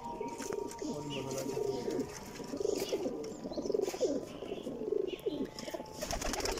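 Game pigeons coo softly in repeated low phrases, with someone talking at times over a faint background hum.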